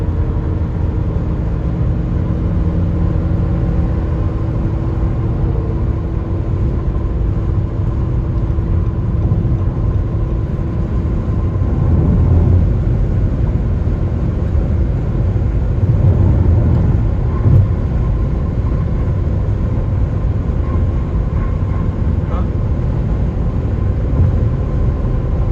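A Ferrari Enzo driven on the interstate, heard as a loud, steady engine drone and road rumble throughout, with slight swells midway but no distinct shift or sharp surge of acceleration.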